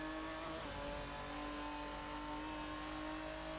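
A racing car's engine in a racing game, with a sustained, steady mid-pitched drone and a whining turbo-like tone that holds constant and loud throughout, no talk over it.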